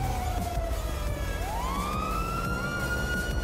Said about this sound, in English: shut the light or the sirens off